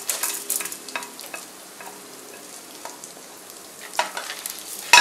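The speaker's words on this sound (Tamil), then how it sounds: "எல்லாமே போட்டு நம்ம ஃப்ரை பண்ணிடலாம்." Urad dal, dried red chillies, peanuts and cashews fry in a pan for beetroot chutney, with a quiet sizzle and scattered scrapes and taps of a spoon, a few louder stirs near the end.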